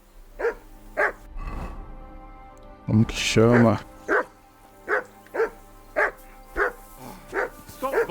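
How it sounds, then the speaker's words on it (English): A dog in the game Kingdom Come: Deliverance II barks repeatedly in a steady rhythm of close, sharp woofs, with speech heard between the barks. "Jesus, Henry, that barking's driving me nuts."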